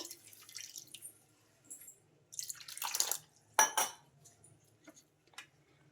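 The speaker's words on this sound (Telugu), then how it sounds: "ఇంకా ఈ రవ్వ మునిగే వరకు వాటర్ అయితే వేసుకోవాలి" Water poured over wheat rava in a mixing bowl, heard as several short close splashing pours in separate bursts with faint clinks of utensils between them and no talking.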